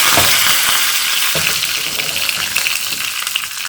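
Urad dal and curry leaves crackle loudly in hot oil for a ridge gourd chutney tempering, a dense, bright sizzle with a few stirring knocks, cutting off abruptly at the end.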